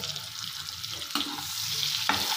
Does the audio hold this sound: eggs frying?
yes